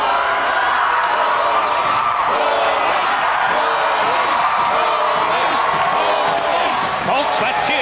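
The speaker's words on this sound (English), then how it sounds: "Folks, that cheer you're hearing is for local favorite Bolin of the Fire Ferrets." A big arena crowd roars and cheers for Bolin of the Fire Ferrets, a loud dense wall of voices and whoops that holds steady the whole time.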